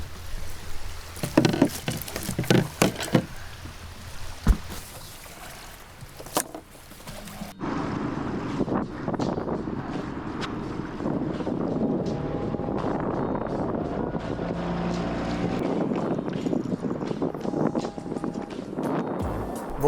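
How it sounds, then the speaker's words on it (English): Gusty wind buffets the microphone on a mangrove island shore, loud rumbling bursts at first and then a steadier roar with no talking. "Wind is starting to pick up too."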